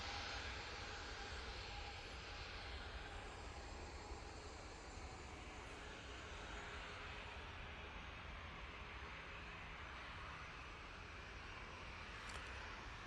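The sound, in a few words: Ryanair airplane at Manchester Airport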